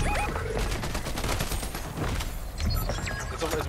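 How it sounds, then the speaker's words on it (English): Dense, continuous gunfire from a Fortnite match, rapid overlapping shots forming a loud sustained fusillade with no pauses, close and filling the whole moment. "Shots over here?"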